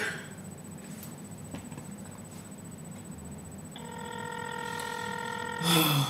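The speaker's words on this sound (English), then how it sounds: "you know they don't have voicemail, so clearly it's gonna keep on ringing" Telephone line tones from an unanswered call placed from a grocery, with steady stacked electronic tones and beeps against a noisy background hum, growing louder near the end.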